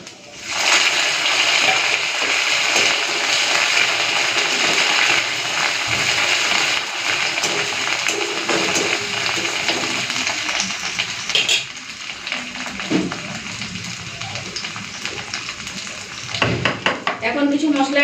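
Ginger paste going into a pan of dried red chillies, cinnamon and cardamom frying in hot oil, giving a loud, dense sizzle and splatter that gradually settles, with a few scrapes of stirring near the end.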